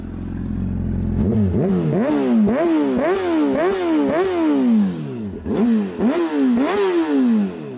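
A 600 cc sport motorcycle exhaust revs repeatedly, the engine rising and dropping in quick sharp bursts, loud and close with a crisp, raspy tone.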